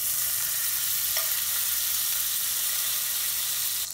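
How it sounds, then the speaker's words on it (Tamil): Butter and two spoons of oil sizzle steadily in a kadai on a stove, a continuous close hiss and crackle of melting fat with no talking. "நான் அடுப்பை ஆன் பண்ணி ஒரு கடாய் அடுப்பில் வச்சு 2 ஸ்பூன் எண்ணெய் ஊற்றிருக்கிறேன். அதோட நம்ம எடுத்து வச்சுருந்த பட்டர் இதில் சேர்த்துடலாம்."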